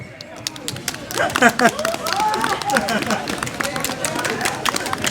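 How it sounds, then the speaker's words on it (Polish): Audience clapping at an outdoor commemoration by the Diana monument: a steady patter of many hands, fairly close, mixed with children's and adults' voices throughout. "Proszę Państwa, klaszczemy, nie boimy się."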